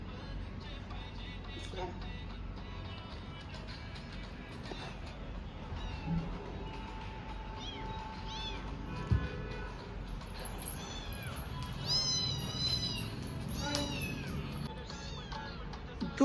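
A kitten meows repeatedly indoors, its high, wavering cries rising over a steady background hum, with children playing with a phone nearby.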